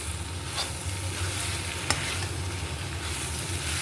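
Okra with spices being stirred in a hot pan, a dense close sizzle with scraping stirring strokes and one sharp clack near the middle, no talking.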